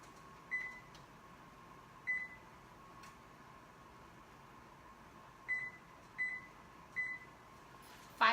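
A home oven gives five short electronic beeps at uneven intervals, each a clean high tone, over a steady quiet hum from the kitchen, with a brief clatter right at the end.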